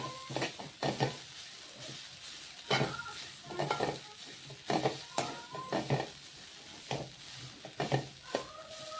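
Food roasting in ghee in a pan while being stirred, a faint continuous sizzle punctuated by repeated scraping strokes of a utensil against the metal in an uneven rhythm.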